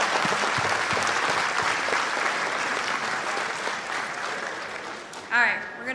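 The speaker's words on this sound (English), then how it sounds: "give a round of applause to DE, man" Audience applause for the game studio DE fills a TennoCon convention hall, a dense, steady roar of clapping that runs nearly the whole time before a voice breaks in near the end.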